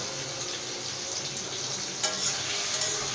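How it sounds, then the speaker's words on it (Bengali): Tomatoes stirred and frying in a pan on a gas flame, a steady close hissing sizzle with occasional scraping and clinks of the spoon, no voices. "টমেটোটা দিয়ে ভালো করে নাড়িয়ে চাড়িয়ে টমেটোটা নরম না হওয়া পর্যন্ত নাড়িয়ে যাবো।"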